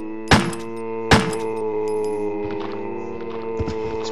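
Two sharp gunshots ring out early, followed by a few softer thuds over a steady synthetic hum, from the Resident Evil 1 demo video game.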